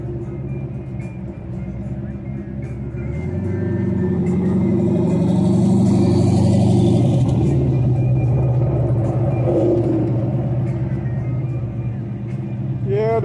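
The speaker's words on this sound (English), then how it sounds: "Motorcycle." A motorcycle rolls past at a car show, its engine rumble swelling loud and close in the middle before easing off, with a steady low drone throughout.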